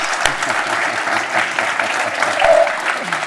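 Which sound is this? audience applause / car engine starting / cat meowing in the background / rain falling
audience applause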